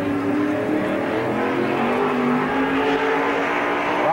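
Dirt track race car, the Hannah City 55 machine, at Spoon River Speedway during the 1999 Summer Nationals, engine droning loudly and steadily with shifting pitch as it laps the oval.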